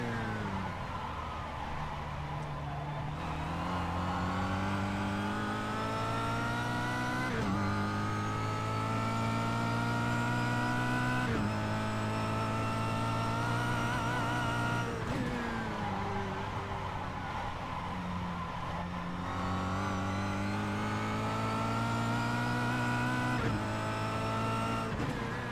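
Kia Cup race car circling the Imola circuit, its engine loud and close throughout, rising through the revs and dropping sharply at each gear change in a repeating cycle, with no talking.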